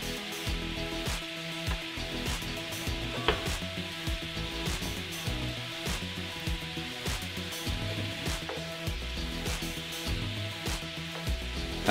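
Sausage links sizzle steadily in a hot pan, a continuous close frying crackle with small pops scattered throughout and no talking.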